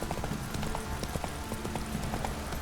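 Horse hooves in The Witcher 3 video game, a quick rhythmic clip-clop of a galloping horse, steady and fairly close, with rain-like background noise.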